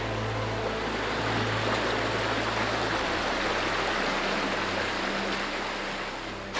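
A lush river flows steadily beside a cavern beneath an old abandoned house, giving a broad, continuous rushing wash of water that stays close and fairly loud throughout, with a low hum underneath early on and no talking.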